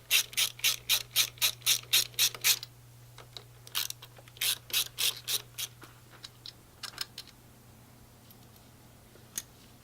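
Ratchet wrench clicking in quick bursts as M8 bolts come out of a Honda Grom MSX125 motorcycle frame, close and clear: a long even run of clicks, a pause, another run, then scattered single clicks over a faint steady hum.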